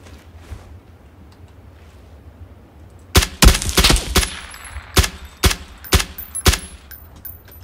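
After a quiet stretch, a burst of loud Kar98k rifle shots crack out in PUBG: Battlegrounds, followed by several spaced single shots, sharp and close with faint distant noise.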